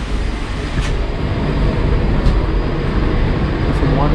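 Steady broadband rumble and rattle inside a moving train carriage near Lake Como on the Italy–Switzerland border, a continuous loud interior drone with faint higher squeals passing through.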